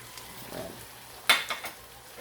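Squid and broccoli being stirred in a pan, with a short clatter of a utensil against the metal and a soft sizzle, heard up close with no talking.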